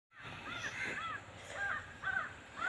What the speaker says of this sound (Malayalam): അതാ പോണൊരു കാക്ക.